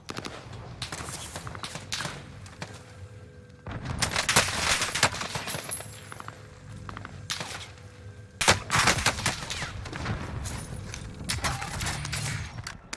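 Bursts of automatic gunfire from computer-controlled enemies in a battle royale video game, repeated rattling volleys separated by short pauses, mid-distance with some nearby shots.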